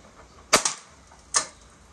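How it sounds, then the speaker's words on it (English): An old BB gun is dry fired with nothing loaded. Two sharp, close mechanical snaps sound about a second apart, the first followed by a quick second click, with quiet in between. "We're gonna give it a dry fire"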